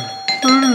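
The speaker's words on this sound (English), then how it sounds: "Will you stop with the doorbell?" A doorbell chimes in two quick tones, loud and close, with a voice starting up right as the second tone sounds.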